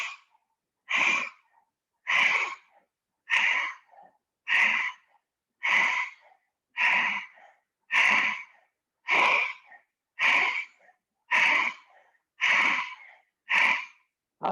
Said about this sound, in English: when your tongue is out, it will make a sound like a dog panting